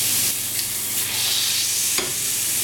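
Wild boar saddle sears in a hot pan, a loud, close, steady sizzle and crackle of frying meat with a slight stirring scrape, no voices.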